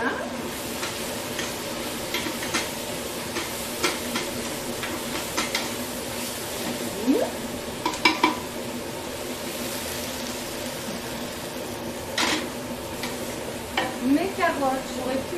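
Leeks and celery frying in a pot for barley soup, giving a steady soft sizzle with scattered stirring clicks and scrapes throughout.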